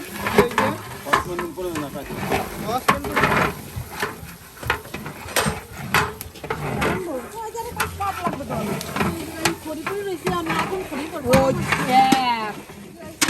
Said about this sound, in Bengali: খিচুড়ির জন্য ডাল ভাজা হচ্ছে।